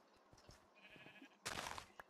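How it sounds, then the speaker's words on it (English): A sheep in a modded survival video game gives a short, faint bleat, followed by a brief louder burst of game sound near the end. "It's just a regular sheep."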